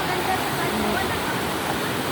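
River water flowing where people are wading across, a steady rushing and gurgling wash, close and fairly loud and holding constant throughout.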